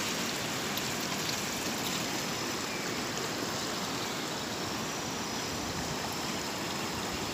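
The flooding Paraíba River in Atalaia, Alagoas rushes past in a dense, unbroken roar of churning water, loud and close, with no voices over it.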